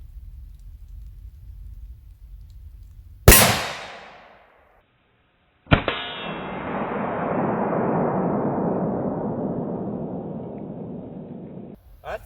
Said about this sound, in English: This Predator armor gets 145 grain LRX. 7mm rim mag from a 26-inch barrel.